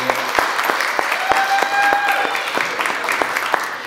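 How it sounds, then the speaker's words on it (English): A crowd at a stop-bullying music promotion event claps for Willie Torres, steady close applause with a few sharp individual claps standing out and brief whistles and voices mixed in. "Let's give a round of applause for Willie for making this event possible"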